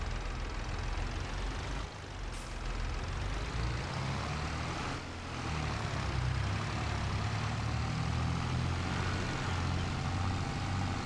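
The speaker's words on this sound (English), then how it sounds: "I mean, it sounds like a big tractor." Tractor engine in Farming Simulator 22, a continuous deep rumbling drone at steady load with a slight dip partway through, sounding large and heavy.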